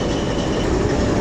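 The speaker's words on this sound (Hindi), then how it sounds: "ये लग गई ब्रेकें।" Aboard the 122 Down Ravi Express arriving at Shorkot Junction, a loud, dense rumble of the train decelerating as brakes are applied, a brief burst of heavy rolling noise without distinct clicks.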